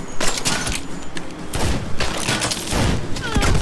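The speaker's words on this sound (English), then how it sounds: "Dia ada senjata shotgun." Rapid, loud shotgun blasts and a dense fusillade of game gunfire fill the Saints Row action scene, with voices mixed in underneath.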